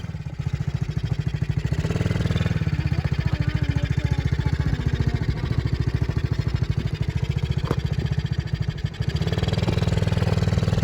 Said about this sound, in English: just press the throttle there and it'll go a little bit